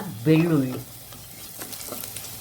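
Food fries and is stirred in a pan until golden brown while making a Mangalorean-style green masala. A steady close sizzle with scraping continues throughout, and a short voice is heard near the start.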